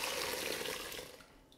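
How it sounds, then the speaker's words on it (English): Hot vegetable broth pours through a strainer into a bowl in a close, steady rush of liquid that fades out over about a second and a half. No voices. "We're just going to pour it slowly into our bowl."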